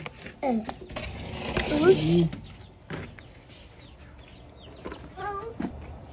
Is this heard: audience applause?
no